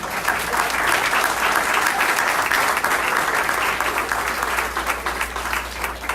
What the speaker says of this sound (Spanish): Dale un fuerte aplauso, amén, Señor.